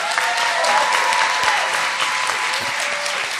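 An audience at a conference talk session applauds loudly and steadily, a dense wash of clapping hands filling the room with no pause.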